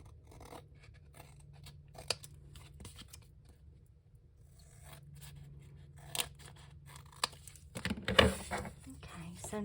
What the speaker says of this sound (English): I am going to have to trim that a little bit